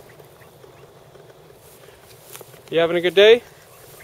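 Ducks give a short burst of loud, close quacking near the end, following a stretch of quiet outdoor background, with a voice speaking briefly.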